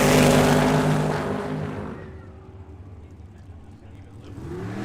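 A twin-turbo 540 drag racing car at an eighth-mile track blasts past loud and close, then fades into a lower, distant drone, with an announcer talking over it.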